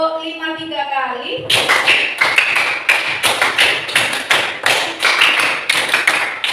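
A group claps rhythmically in a classroom counting game, three rounds of five quick sharp claps following a short spoken call, the claps loud and close with little talk over them.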